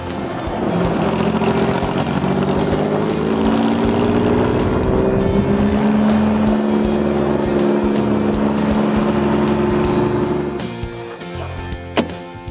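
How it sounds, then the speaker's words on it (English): A Jeep rides along in the town of Sigurd, its engine humming loud and steady from inside the cab with rising and falling tones, then easing off near the end as it slows. "Jody, what would it take to get a ride in this Jeep"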